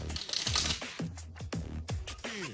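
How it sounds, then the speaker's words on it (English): A deck of playing cards is shuffled briefly, giving quick papery riffles and soft slaps in a few bursts over about two seconds, close and fairly quiet. "I'm gonna just give it a little shuffle right here."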